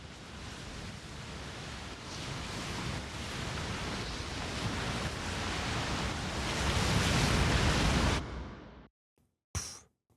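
Wind and thunder effect layered in a synth bus, a broad roaring rush that surges and builds with low rumbling swells, then drops away abruptly to near silence with a short final burst.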